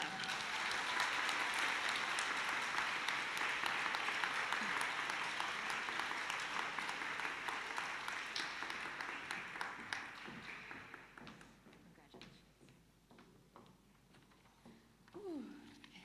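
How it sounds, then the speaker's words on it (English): A graduation audience at a Grade 12 ceremony claps loudly and densely for the valedictorian. The applause holds for about ten seconds, then thins into scattered claps, and a few voices murmur near the end. "How's everyone's hands feeling? There's gonna be a lot more clapping today."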